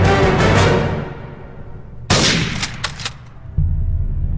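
Loud sniper gunshots ring out in a film trailer: one heavy shot with a long decaying tail, then a sharp crack followed by quick smaller bursts, and another blast near the end, all without speech.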